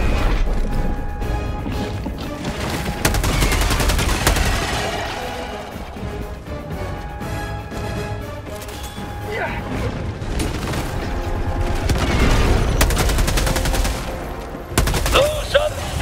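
Gunfire in the video game Helldivers, bursts of rapid shots and booms layered over game effects and music, loud and close, with a voice speaking over parts of it.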